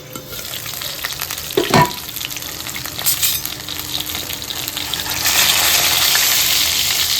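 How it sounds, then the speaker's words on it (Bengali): Two fish fry in hot oil in a wok, giving a steady close sizzle with a couple of louder spattering bursts early on and a fuller, denser crackle toward the end; no one speaks. "মাছ দুটো এবার ভাজা হতে থাকো"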